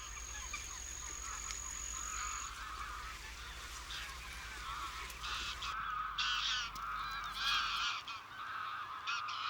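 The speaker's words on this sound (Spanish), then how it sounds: "Miles de gansos invaden los campos de cultivo para alimentarse de los cereales que han brotado tras el verano" A large flock of geese honks continuously in a dense chorus, with many overlapping calls at a moderate distance, over farm fields of sprouting cereal crops.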